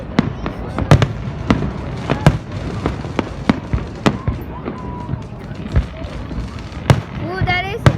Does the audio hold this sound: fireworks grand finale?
yes